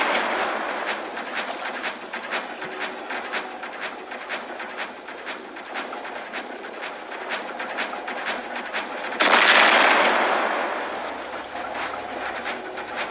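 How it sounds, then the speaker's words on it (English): Steady, rapid enemy gunfire in a video game, a regular string of sharp evenly spaced shots repeating close and loud, with a brief louder burst near the end. "I wanna see if this guy stops firing at me"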